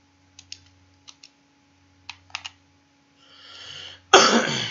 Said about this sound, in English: Excuse me for coughing once again.